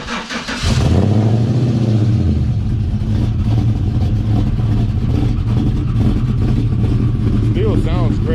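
A car fitted with a Borla exhaust starts up and settles into a loud, steady rumble with a brief rise in revs. The engine sounds close by and fills the whole stretch without pause.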